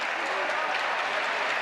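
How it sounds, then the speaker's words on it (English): At a professional basketball game in Singapore, an arena crowd breaks into a steady wash of applause, with a commentator talking over it. "crowd appreciating the hustle of Russell Lowe"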